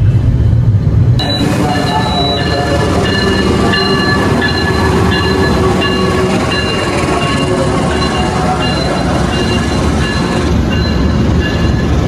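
An Ambarawa Express passenger train rumbles steadily past at close range at Babat station, Lamongan, with a sustained metallic wheel whine, continuous and loud throughout.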